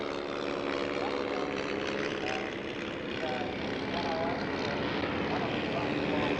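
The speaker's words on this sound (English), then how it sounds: "The Avro Cadet with its exposed Jacobs radial engine, this one in civilian markings, a popular trainer in the 30s and 40s." An Avro Cadet biplane trainer from the 1930s and 40s, in civilian markings with an exposed Jacobs radial engine, drones past at an RAAF anniversary airshow, its propeller roar steady and fairly distant throughout, no talking.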